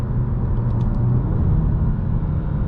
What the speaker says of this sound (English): it holds gears in sport mode really, really well. You can hear that right now.